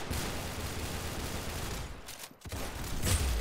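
Gunfire in the Roblox game Arsenal comes as a dense, continuous spray of rapid shots, loud and close, with a brief dip midway and no talking.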